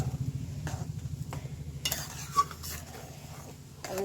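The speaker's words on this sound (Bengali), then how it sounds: "দেখুন এবার এদিকে ঘেঁটে আমি কিছুক্ষণ ফুটিয়ে নেব" Mango kasundi is stirred and left to simmer in a pot, with soft bubbling and spoon scrapes against the pot, fairly quiet and close, and no talking.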